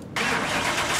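Scion FR-S engine cranking and catching in Car Mechanic Simulator 2021, a short starter burst followed by a loud, steady idle that fills the rest of the moment, with no talking.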